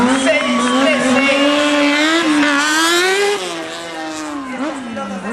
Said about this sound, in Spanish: ya calentando motores de su moto, esa Kawasaki